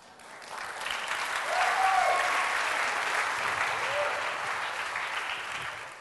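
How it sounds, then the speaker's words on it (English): Warm applause from a university lecture audience at Dominican University swells in, peaks, then holds as a steady, moderately distant patter of many hands. "The lecture didn't deserve that applause"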